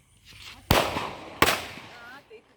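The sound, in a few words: Deepavali firecrackers bursting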